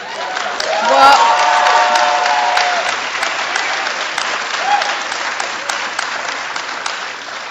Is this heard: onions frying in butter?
no